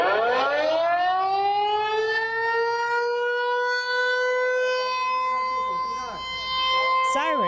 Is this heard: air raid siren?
yes